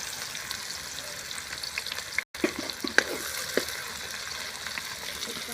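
Finely chopped onions frying in oil in a pan for a vada curry, a steady close sizzle with small crackles and occasional stirring clinks, no talking.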